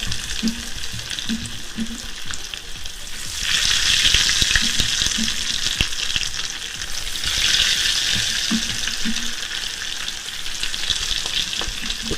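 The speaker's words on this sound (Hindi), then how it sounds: "अब इनको करेंगे फ्राई एक एक करके।" Momos deep frying in hot oil in a kadhai, a steady loud sizzle and crackle throughout, swelling as more pieces drop in, with occasional soft clinks of a utensil.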